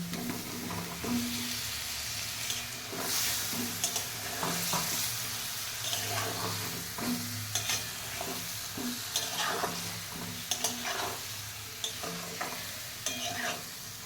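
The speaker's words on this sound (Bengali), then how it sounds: "এবার দেবো অল্প করে জল। এর মধ্যে দিয়ে দেবো ভেজে রাখা আলুগুলো।" Chicken curry simmering in a pan with a gentle sizzle as water is poured in and fried potatoes are added, followed by repeated stirring clatters of a spoon against the pot, close and moderately loud.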